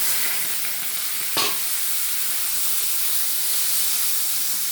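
Tomatoes frying in white cooking oil for a tomato chutney, a steady broad sizzle and hiss throughout with one brief clank of a utensil, close and loud without talk.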